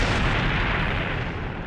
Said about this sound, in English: Oh my, what beautiful fireworks.